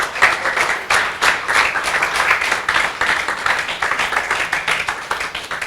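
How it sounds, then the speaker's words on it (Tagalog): A wedding audience bursts into loud, sustained applause for the newlyweds Nathan and Hazel at the close of their ceremony, dense clapping continuing steadily throughout without pause. "Isa pa pong malakas na palakpak"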